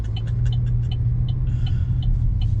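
A car is driving along: a steady low engine rumble and road drone heard from inside, constant and moderately loud, with faint light ticks above it and no talking.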